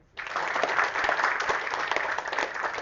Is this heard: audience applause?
yes